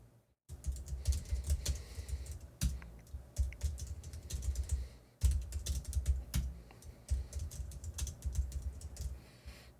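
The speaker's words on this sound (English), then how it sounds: "Type in some dummy data and say submit." Fingers type on a computer keyboard in quick, uneven bursts of clicking keys with one short pause partway through, close and clear with no voices.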